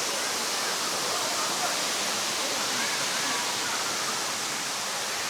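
Mountain waterfalls in Hunan after rain roar as a steady, broad rushing wash of water, loud and continuous, with no breaks in the flow.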